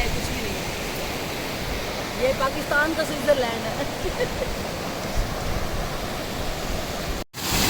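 A small waterfall stream in mountainous Pakistani countryside pours and rushes continuously toward a river, a steady broadband wash of flowing water while someone speaks over it.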